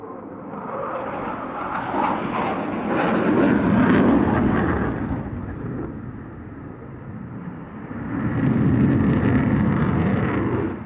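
An F-16 fighter jet flying a display routine at an airshow in Turkey, its loud engine roar swelling, fading and swelling again as the jet passes overhead.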